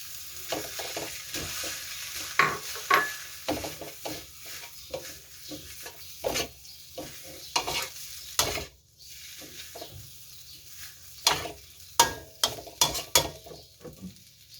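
Cooked rice tossed in a hot wok for Thai tom yum shrimp fried rice: a close, steady sizzle punctuated by frequent sharp scrapes and clanks of the spatula against the pan, with no talking.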